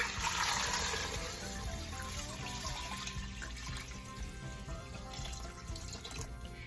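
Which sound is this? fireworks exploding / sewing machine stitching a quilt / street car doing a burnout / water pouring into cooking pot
water pouring into cooking pot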